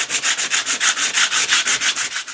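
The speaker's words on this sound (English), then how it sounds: "I'm bringing my sandpaper in." Sandpaper is rubbed back and forth across a painted canvas in quick, even strokes, about six per second. The raspy, close scratching stands alone with no voices.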